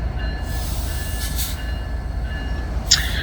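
A CN ET44AC locomotive works as the rear-end DPU on a southbound freight train in Neenah, giving a steady, close rumble and rolling wagon noise throughout, with a brief brighter squeal near the end.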